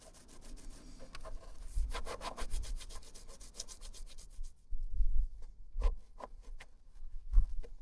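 Fine sandpaper rubs over a motorcycle carburettor body for an RS 250, giving soft, close scratchy strokes in uneven bursts, quiet overall with brief pauses and a few sharper rasps near the end.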